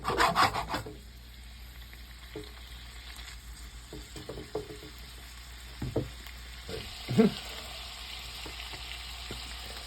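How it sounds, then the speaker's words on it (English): Shrimp for shrimp scampi flipped in a pan of butter and wine, a loud scrape and clatter at the start, then a steady close sizzle with occasional utensil scrapes and taps, no talk. "I'm gonna flip my shrimp."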